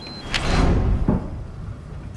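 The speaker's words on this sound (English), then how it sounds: "these sounds were made by Prodromo using the electronic keypad to unlock the cockpit door" An aircraft cockpit door on a Helios Airways airliner is unlocked with its electronic keypad, giving a few short clicks and a muffled mechanical clunk over cabin hum, as captured by the cockpit voice recorder.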